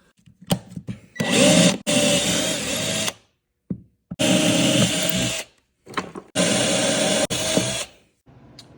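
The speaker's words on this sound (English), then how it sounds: "All right, we drilled our pilot hole" A power drill whirs in three sustained bursts separated by short pauses, drilling a pilot hole for a bow-mount install on a Bass Cat Puma STS boat, loud and close, with a few clicks between runs.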